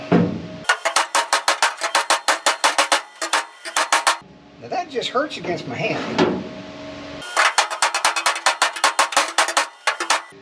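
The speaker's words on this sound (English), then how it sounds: "so a little bit of hammer action" A hammer pounds sheet metal on a Firebird taillight panel in rapid ringing bursts, pausing while someone speaks, then resuming with a fast, loud series of strikes.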